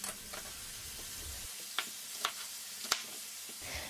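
Beef searing in oil in a cast iron pot, a steady soft sizzle and crackle with a few sharp pops, close by and fairly quiet, no talking.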